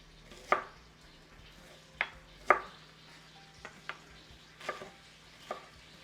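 Bacon and onions cooking in a pan, a faint low sizzle beneath several distinct sharp knocks and scrapes of a utensil against the pan, spaced irregularly and close by.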